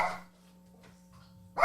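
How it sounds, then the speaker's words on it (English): A dog barks once or twice in the background, short and fairly close, with a quiet electrical hum between the barks. "Dogs is barking."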